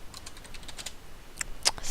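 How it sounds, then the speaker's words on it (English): Quick, light keystrokes clatter on a computer keyboard in short irregular bursts, close and fairly quiet, with a couple of sharper clicks near the end. "I'm going to type how to make a good looking"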